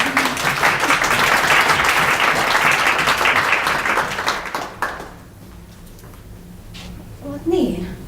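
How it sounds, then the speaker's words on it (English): Audience applause fills a hall after a talk on the business case for solving social problems, loud dense clapping for about five seconds before fading into quieter room noise and a few scattered claps. "Can we give an applause again?"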